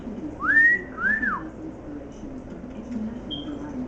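A pet red bird whistles two clear rising-and-falling notes close by, followed by a faint short chirp, over a low indoor hum.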